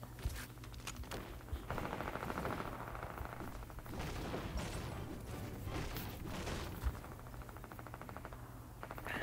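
Sustained submachine gun fire in the video game Fortnite, a continuous rattling barrage of rapid shots that stays loud and dense for the whole stretch.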